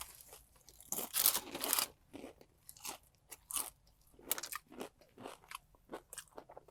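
Crunchy fried chicken, a North Carolina chain's version, is bitten into loudly and close up, with bursts of crackling crunch followed by softer, rhythmic chewing. No voices are heard.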